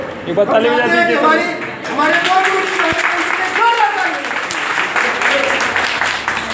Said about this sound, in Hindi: ताली तो बजते रहना चाहिए